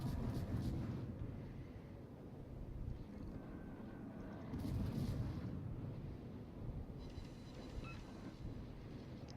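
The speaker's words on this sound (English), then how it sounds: "They're gonna start shooting at me more." Continuous rumbling naval battle din in the Udaloi warship game, dense low booms and gunfire blending into a steady roar with a few louder swells.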